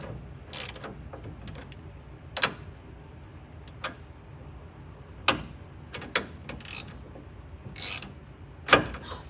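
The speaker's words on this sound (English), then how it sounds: "Carson's bolting together the passenger side" Passenger-side suspension parts on a 1972 AMC Javelin being bolted together with a ratchet, irregular sharp clicks and metallic clacks spaced a second or two apart over a quiet background.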